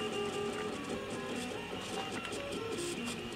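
A 3D printer running a print hums and whirs with shifting stepper-motor tones as the nozzle moves, a steady mechanical drone heard up close.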